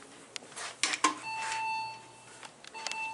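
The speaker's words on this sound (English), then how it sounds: "Let's ring the bell." A few brief electronic chimes ring out from the bell of an OTIS Elevonic 411 traction elevator in a hotel, followed by a steady tone and faint mechanical hum in the quiet cab.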